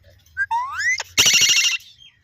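A pet parrot imitates a song ringtone: a few rising whistled tones, a brief pause, then a loud buzzy trilling burst that fades out.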